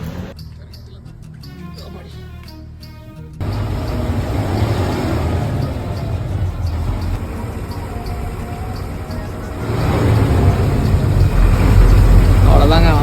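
A lorry's engine runs steadily in Erode, a low, continuous rumble that swells louder partway through as people climb aboard, with voices talking over it.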